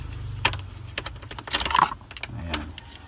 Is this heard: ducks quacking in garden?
no